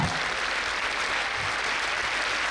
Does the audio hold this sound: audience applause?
yes